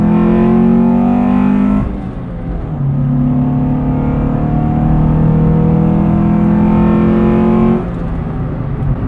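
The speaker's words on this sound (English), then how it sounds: "It's a nice growly little 4-cylinder." A 1998 Acura Integra RS four-cylinder engine revs in long, loud, growly sweeps, dropping briefly before climbing and holding high again, then cutting off near the end.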